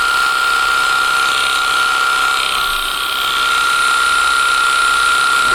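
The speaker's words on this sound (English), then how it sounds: "we're going to come back and use the foil shaver and make sure we have a very" An electric foil shaver buzzes continuously and loudly close up during a skin fade haircut, a steady high whine with no pauses and no talking.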